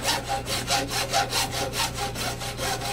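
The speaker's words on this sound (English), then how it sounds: "using a saw, you're going to cut that 1 inch piece off of" A hand saw cuts a one-inch piece off the end of a 90-degree elbow on a cane leg, with steady back-and-forth strokes in a regular rhythm, close and fairly loud, with no talking.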